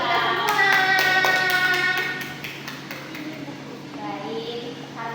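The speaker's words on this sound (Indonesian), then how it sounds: "Tepuk tangan buat kita semua." A group claps hands in a quick, steady burst in a classroom at the end of a lesson, fading after a couple of seconds while children's voices carry on in the background.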